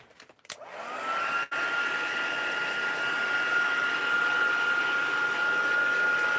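A heat tool or dryer blows over a freshly inked craft card, starting after a brief click and running as a steady, even whooshing hum with a thin whine, close and alone.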